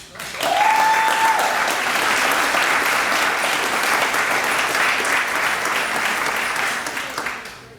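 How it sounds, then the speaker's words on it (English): Audience at a YMCA annual meeting breaking into loud sustained applause, many hands clapping in a full steady roar that tapers off near the end, with a brief tone at the start. "give yourselves a round of applause"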